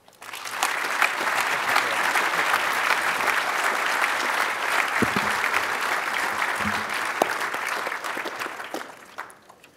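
An audience applauding to welcome Senator Mike Lee at a lawyers' convention, sustained dense clapping from a large room that swells quickly, holds steady and then tapers off.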